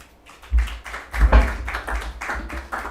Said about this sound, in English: I think a warm round of applause from Bide, please